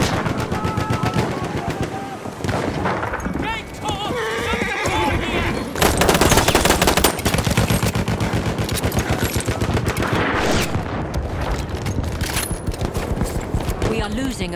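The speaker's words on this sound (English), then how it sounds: "Machine gun, hostile." Machine gun fire bursts loudly and almost nonstop through a chaotic Battlefield 1 Suez conquest match, mixed with horse whinnies, hoofbeats, explosions and shouted radio-style callouts.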